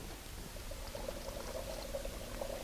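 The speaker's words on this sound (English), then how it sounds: "You hold this while I pour this chemical." A chemical is poured as a sound effect in a 1940 radio drama, a faint continuous liquid trickle barely rising above heavy, steady broadcast hiss, with no talking.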